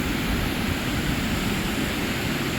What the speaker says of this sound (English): The spillway is flowing pretty good.